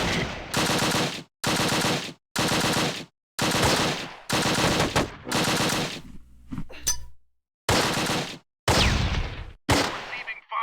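Loud bursts of automatic gunfire from the video game Close Combat: Wacht am Rhein, about eight sharp rattling volleys separated by brief silent gaps, with a short pause in the middle before the firing resumes.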